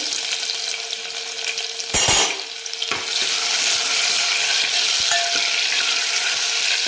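Garlic cloves and a piece of ginger sauté with cumin seeds in hot oil, giving a steady close sizzle with a sharp burst and scrape near the start and scattered soft clicks throughout.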